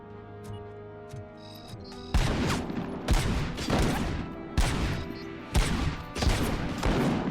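Gunfire in the video game RoboCop Rogue City: a series of loud, sharp shots at roughly one-second intervals, each with a ringing decay, over a low game soundtrack, following a quieter stretch of ticking.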